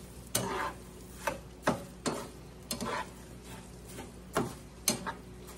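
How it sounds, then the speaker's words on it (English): Vegetables and instant rice sautéing in a pan for Tex Mex rice, a soft sizzle underneath repeated sharp scraping knocks of a spoon stirring, about seven or eight strokes spaced irregularly. "We're going to cook this around in here and let them vegetables kind of saute together a little bit."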